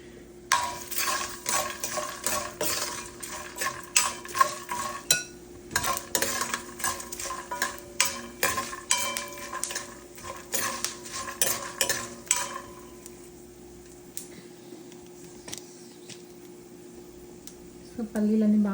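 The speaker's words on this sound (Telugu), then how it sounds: "కొంచెం ఆయిల్ యాడ్ చేసి ఈ ప్యాన్లోనే ఇందాక రెడీ చేసుకున్నాను కదా, జీలకర్ర, ఆవాలు, పల్లీలు, పచ్చిశనగపప్పు, ఉద్దిపాయలు వేసుకుంటున్నాను" Cumin, mustard seeds, peanuts and lentils fry in oil in a pan, a soft sizzle under rapid clinking spoon stirs for about twelve seconds before the stirring stops; someone talks throughout.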